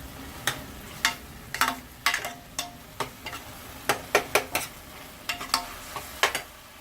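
Dry fenugreek leaves go into a sizzling pan of green garbanzo bean and potato curry, giving a run of sharp, irregular crackles and stirring scrapes close by, with no talk.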